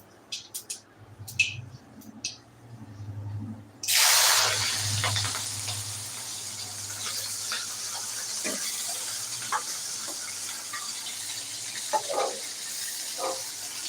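Sudden loud sizzle erupts a few seconds in as something hits hot oil, then settles into a steady hiss with occasional crackles, after a few quiet clicks.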